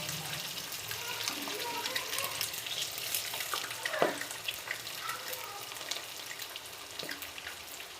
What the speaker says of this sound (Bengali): ডিমটাকে ভেজে নিচ্ছি লাল লাল করে